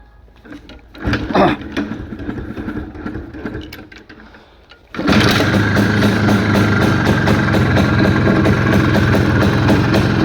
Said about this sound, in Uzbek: Hozir mana yurg'izib beraman aka, bir eshitib ko'rasiz aka motorlarini